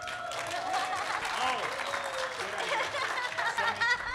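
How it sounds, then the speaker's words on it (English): An indoor crowd at a Tesla gathering claps and cheers steadily for a group photo, dense and continuous throughout, with chuckles and murmured voices mixed in. "So you're going to all wave and clap,"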